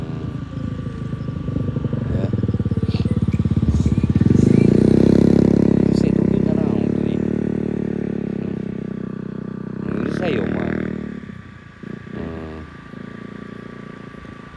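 A loud motorcycle engine roars nearby on a road in Kanagawa, Japan, swelling and rumbling steadily, then fading slightly as it idles and revs again.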